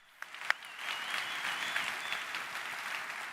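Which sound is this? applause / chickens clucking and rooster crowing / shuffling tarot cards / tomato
applause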